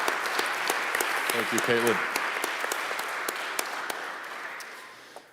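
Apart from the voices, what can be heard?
conference audience applause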